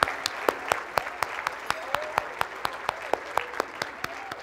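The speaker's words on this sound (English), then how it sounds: "So let's give a big round of applause for Mr." A small audience at a STEM keynote event claps steadily with distinct individual handclaps standing out, continuous and fairly close for several seconds.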